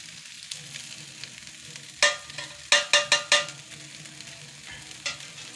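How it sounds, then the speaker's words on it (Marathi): Masala fries quietly in a pan under a low, faint sizzle, punctuated by a handful of sharp spoon-on-pan scrapes and knocks, one alone, then a quick cluster of four, then a last one, close and wordless. "थोडी दोन मिनटं परतून घेतो एकदम अशी खतरनाक भाजली मसाला टाकून देतो ह्याच्यात"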